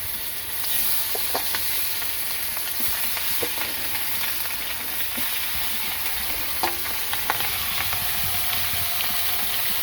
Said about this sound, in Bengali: এই তো তেল দিয়ে দিছি, এখন মাছ দিয়ে দিব।